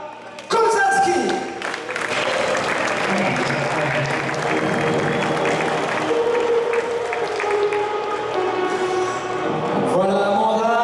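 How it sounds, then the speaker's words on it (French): A crowd applauds basketball player Amanda Kozanski, number 15, at a team presentation, with sustained loud clapping and cheering from many people throughout and a voice speaking over it. "Voilà Amanda, applaudissements"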